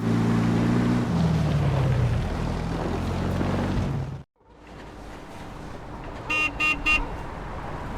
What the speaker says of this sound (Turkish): Kornamız çalışıyor iyi bak.